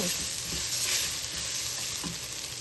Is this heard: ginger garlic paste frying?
yes